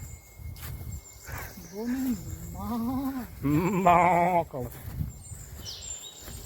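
Several close goat bleats, quavering and nasal, follow one another in quick succession over a bit of low background rustle, in the forested Anantagiri Hills near Vikarabad.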